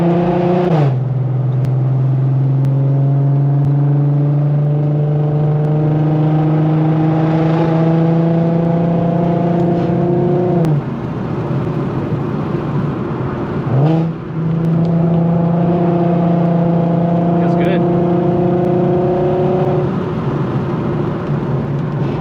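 An Infiniti Q50 with a loud exhaust revs through canyon corners, climbing through a long gear, dropping on the shift, then climbing again. The engine is close, loud and continuous.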